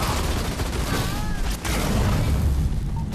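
Gunfire from enemy ground troops in the real-time strategy game Halo Wars 2, a continuous dense battle rumble with bursts of shots and booms, heard under faint game voice chatter.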